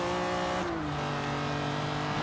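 A car in Forza Horizon 3, fitted with a 3.2 liter inline six pushed through a 1-inch tailpipe, revs hard as a loud, continuous engine drone whose pitch dips and then holds steady, with no talking.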